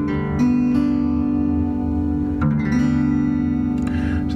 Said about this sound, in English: So that's the sound of open G tuning.